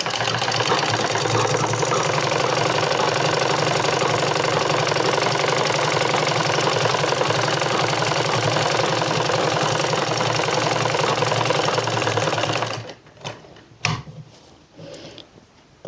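A sewing machine runs continuously as it stitches a trouser seam, a steady dense mechanical whirr held at even loudness for about twelve seconds before it stops, leaving faint scattered handling noises.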